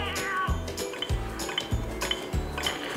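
A kitten meows repeatedly in short, regular cries against a steady video game soundtrack, with no talking.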